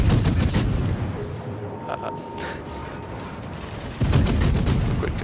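Naval gunfire from the cruiser Worcester in World of Warships, a series of sharp booming salvos with mechanical clatter, a burst at the start and another near the end, loud and close.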